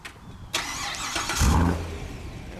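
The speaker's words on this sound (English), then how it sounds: "I need to show you the remote engine start first" A yellow 2014 Chevrolet Corvette Stingray Z51 3LT with a two-mode exhaust fires up by remote start: a sharp crank, then a deep rumbling catch that settles into a steady idle, heard close and without talk.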